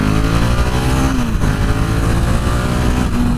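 A KTM Duke 690 R single-cylinder motorcycle accelerates hard, its engine loud and close with rising pitch as it climbs through the revs for a few seconds.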